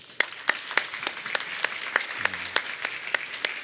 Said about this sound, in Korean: 우리 잠깐 일어나셔서 환영하고 박수로 좀 환영하고요